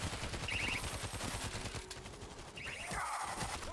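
Automated turrets in a shooter video game fire continuous bursts of gunfire, a dense rattling fusillade running throughout at steady loudness with no talk.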